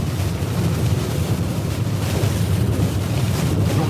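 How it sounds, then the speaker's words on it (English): Strong hurricane winds during Hurricane Delta, sustained around 60 with gusts to 70, roar loudly and without a break against the microphone, with deep rumbling buffeting and a constant wash of noise. "And the winds have really picked up."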